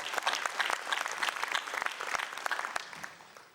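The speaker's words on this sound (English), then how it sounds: "So round of applause for all your hard work." A room of people gives a round of applause at a 70th-anniversary celebration speech, a steady wash of many hands clapping that fades slightly toward the end.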